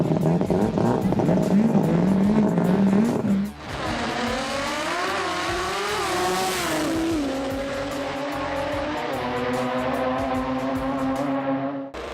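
A drag racing car at the Jamboree Sydney 2019 event roars down the strip, its engine note climbing through gears after a sharp shift, loud and sustained with a rising then steady pitch, with faint crowd or talk behind.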